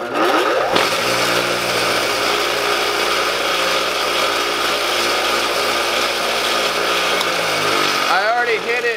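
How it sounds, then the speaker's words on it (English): A knife blade is pressed against a dry, clean hard buffing wheel, giving a loud, steady motor whine with a constant rasp of friction that holds unbroken for several seconds. "I'm hitting it on a dry, clean hard wheel"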